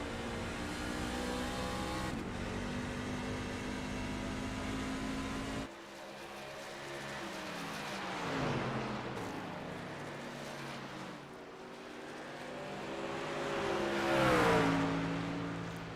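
A race truck in a racing video game at Phoenix revs high and drops through downshifts, the engine note falling and climbing in repeated sweeps as it brakes and accelerates off the corners, steady and fairly loud without talk.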